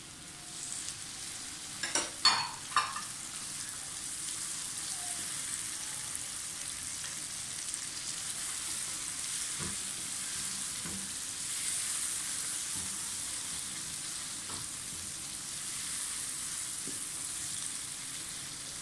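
Chopped tomatoes sizzle steadily in a pan with fried garlic and ginger, with a few sharp scraping stirs near the start before the even frying hiss carries on alone.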